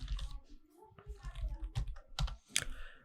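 Typing code on a computer keyboard: scattered, close key clicks and taps in an irregular rhythm, with someone talking quietly over them.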